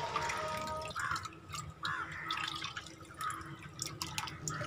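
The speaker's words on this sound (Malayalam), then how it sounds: "അപ്പം ഈ വെള്ളം അത് നമ്മൾ ടാങ്കിലേക്ക് കുറച്ച് ഒഴിക്കുകയാണ്" Water steeped with banana leaves trickles and drips as it is poured into a guppy fish tank, close by with small irregular splashes and no talk.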